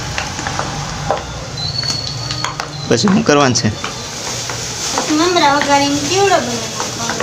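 Mamra chevdo ingredients frying in hot oil, a steady sizzle with stirring scrapes running throughout, while someone speaks over the cooking in two stretches.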